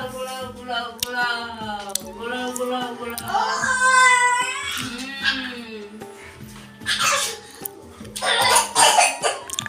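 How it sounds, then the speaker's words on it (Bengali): A voice hums and vocalizes, then a few loud, close coughs burst out near the end. "ইচ্ছে করে কাশিস"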